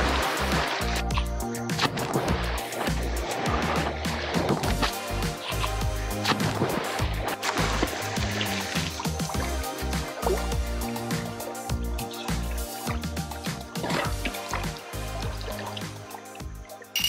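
Water splashes and sloshes steadily in a private villa pool at the Ritz-Carlton Langkawi resort, a continuous busy wash of drips and slaps close by with no one talking.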